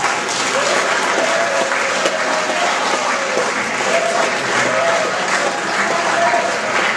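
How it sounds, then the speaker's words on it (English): Audience giving the steering committee a round of applause at a meeting, a dense continuous roar of clapping held at a steady level for the whole stretch, with faint voices mixed in. "Let's give them a round of applause."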